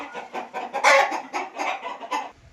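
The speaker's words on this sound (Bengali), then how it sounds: "সোনালী মুরগি" Several Sonali chickens clucking together on a farm, a steady run of close, lively clucks and squawks with no other voices.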